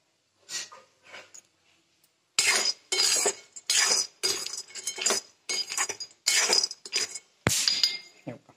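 Roasted date seeds rattle and clatter in a pan, bursts of dry rattling shaken in quick repeated bouts with short gaps, close and fairly loud, with one sharp knock near the end.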